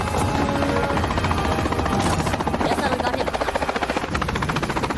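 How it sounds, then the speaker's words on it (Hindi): A helicopter in a Telugu film action scene throbs steadily with a loud, continuous rotor chop and engine whine that fill the whole stretch without pause. "अपने हेलीकॉप्टर को भेजते हैं"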